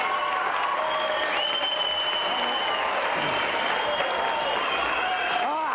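Studio audience applause on a game show, a steady dense clatter of clapping from a crowd that holds at an even level for several seconds, with a presenter's voice faintly over it.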